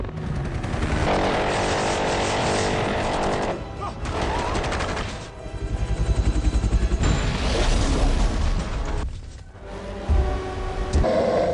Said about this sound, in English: Drones incoming.